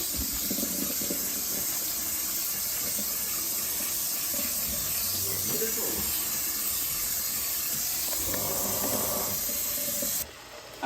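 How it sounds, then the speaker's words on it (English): Cooked noodles being drained and rinsed under running water in a home kitchen: a steady, close hiss of spraying water splashing into a sink, continuous for about ten seconds before stopping. "Drain them off and rinse them so they stop cooking."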